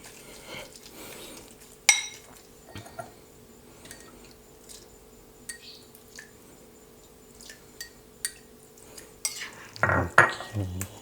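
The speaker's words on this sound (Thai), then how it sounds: "คนนิดนึงนะครับให้น้ำปลามันซึมเข้าไปด้วย" A spoon stirs fermented fish spicy dip after fish sauce is added, giving soft wet scraping with scattered clinks against the bowl and a louder clatter near the end.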